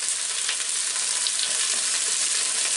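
Carrot and cauliflower cooking in a pot of vegetable pulao, giving a dense, even hiss of frying that holds at a constant level throughout, close up and with no voices.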